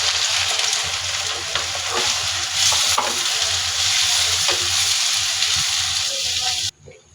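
Onion, dried red chili and a bay leaf frying in hot oil, a loud, steady close sizzle with occasional stirring scrapes that cuts off abruptly near the end.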